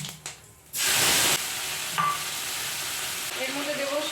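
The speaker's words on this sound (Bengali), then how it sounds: "গোটা জিরে ফোড়ন দিলাম এবং যে বাটনাটি বেটে রেখেছিলাম সেটা দিয়ে দেবো।" Whole cumin seeds and a ground spice paste for a fish and potato curry hit hot oil with a sudden loud sizzle that settles into a steady frying hiss, with faint clinks of stirring.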